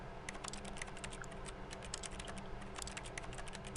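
Rapid, continuous clicking and tapping of a computer mouse and keys during play of The Stanley Parable, sitting over a steady bed of background game noise.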